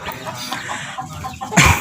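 Backyard chickens kept in a pen shared with a goat shed, giving soft intermittent clucks and then a louder, sharper cluck or squawk near the end, close by with no talk.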